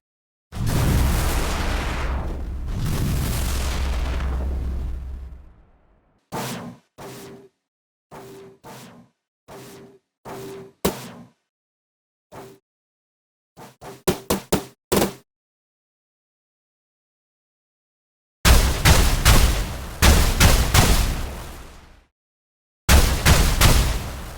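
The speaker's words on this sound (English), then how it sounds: "now listen to our completed electric weapon sound" A synthesized electric sci-fi weapon effect built with Weaponiser: two long crackling blasts, then a series of short zapping shots with a buzzing tone, some in rapid bursts, a pause, and two more loud blasts, with no speech.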